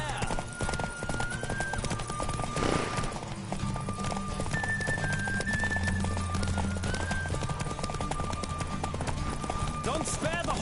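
Horse galloping in a PS4 video game, rapid clip-clop hoofbeats running steadily throughout, with a whinny and game music and effects layered over it.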